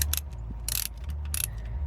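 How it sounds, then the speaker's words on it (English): A hand ratchet turns a nut on a Nissan Maxima engine during knock sensor replacement, giving three short, close bursts of quick metallic clicking with quiet pauses between. "the ratchet goes in there, sits on that nut, and then you pick it up here and you twist and it'll pop loose"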